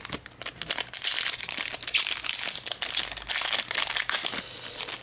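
A plastic Yu-Gi-Oh booster pack wrapper crinkles and crackles continuously as it is torn open, close and fairly busy throughout.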